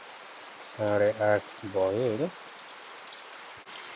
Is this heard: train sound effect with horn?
no